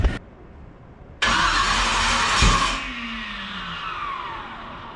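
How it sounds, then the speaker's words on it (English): A Jeep Wrangler race build's engine turns over and catches on its first startup, a loud cranking burst followed by a steady running roar that slowly settles, close by with no talking. "the engine actually kind of turned over"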